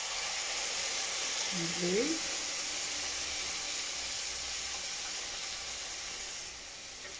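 Tomatoes tipped into a pan of frying spices for a vegan chilli con carne, giving a steady loud sizzle and hiss throughout, fading a little near the end, with a brief spoken word over it.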